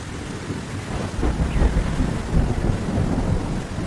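Heavy rain pours steadily while thunder rumbles loudly and continuously underneath, with no voices.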